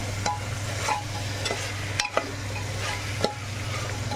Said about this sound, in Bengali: এগুলো একটুখানি দিয়ে মশলার সাথে কষিয়ে নেব